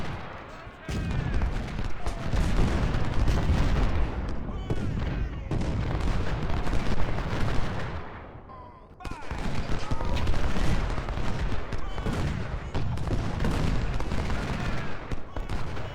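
Cannons and artillery fire in a Civil War strategy video game, with repeated booming volleys and rattling gunfire that continue for the whole stretch and pause briefly partway through, in a dense, loud battle ambience.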